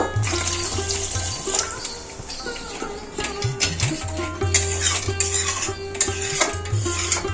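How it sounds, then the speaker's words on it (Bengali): Water goes into a pan of fish curry masala for tel koi, a Bengali oily fish curry, with steady watery splashing and clinks of a spoon or pot through the clip, close and fairly loud. "এর মধ্যে আমি জল দেব"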